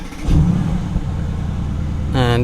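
A Mercedes-AMG GT S V8 fires up with a sharp starter catch and settles into a deep, loud idle rumble, then a brief rev flares at the end; a voice speaks over it.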